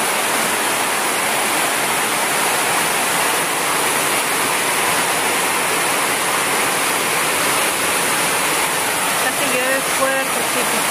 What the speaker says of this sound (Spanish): Miren cómo llega el agua.